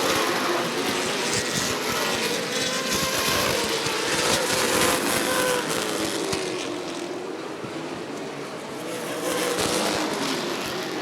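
Super late model race cars roar past at Rockford Speedway, a dense, far-off engine drone rising and falling over several seconds, with the rough crackle of an engine backfiring buried in the steady noise.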